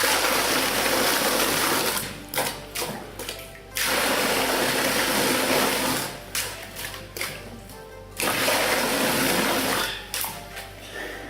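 A water pump surges water through a pipe in loud continuous rushes, lifting it about 1.5 meters, cutting off abruptly into gurgling pauses and starting again several times, close by.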